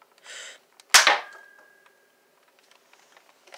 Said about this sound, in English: Whoa, a spy gun.